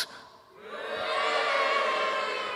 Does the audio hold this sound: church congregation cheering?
yes